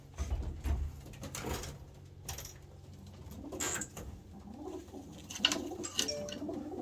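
A black pigeon hen coos in a loft, a few soft, rolling coos close by, with faint rustling and a door-like knock earlier and no talking.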